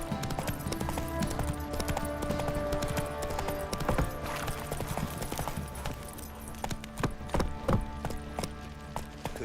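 Horse hooves clip-clopping at a steady gait in The Witcher 3: Wild Hunt next-gen, with a brief whinny, layered over busy game ambience and music throughout.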